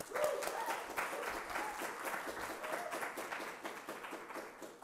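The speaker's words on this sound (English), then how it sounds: "Round of applause for Allison." Audience applause at a capstone symposium welcome for a graduate program, a steady wash of clapping lasting the whole stretch at moderate level, with some faint voices mixed in.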